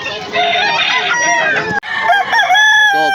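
A rooster with a straight red comb crows at a busy Philippine tiangge market, two long loud harmonic crows back to back, close and clear with no talk over them.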